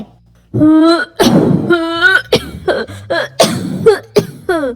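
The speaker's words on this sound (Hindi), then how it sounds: "फिर कबूतर जैसे ही खाना खाता है वो खांसने लगता है।" Repeated harsh coughing in quick bursts from a cartoon pigeon, close and loud, with a few strained, voiced hacks between them.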